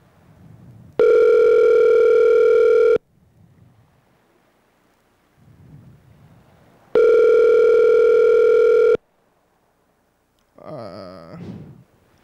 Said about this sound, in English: Answer your phone.